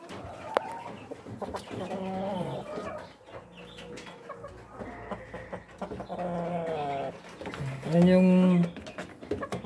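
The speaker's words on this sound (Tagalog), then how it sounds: "Yan yung rooster natin" Rhode Island Red rooster and hens in a breeding cage on a farm, with repeated nearby clucks and calls and a loud, drawn-out rooster call near the end.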